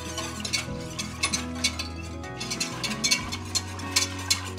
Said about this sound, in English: I'm going to whisk it while everything's cold.